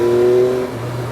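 A Yamaha MT-09 three-cylinder motorcycle engine pulls hard on a winding road in third gear and its most aggressive riding mode, a close, loud rising drone that drops in pitch as the throttle eases.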